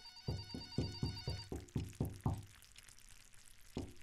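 A telephone rings in a quick repeating pattern of short bursts, then stops; a faint knock-like tap follows near the end.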